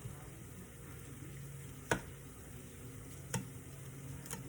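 A tortilla toasting in a hot pan while making huevos rancheros, giving a faint, steady low sizzle with a few sharp ticks or pops scattered over a few seconds, no talking.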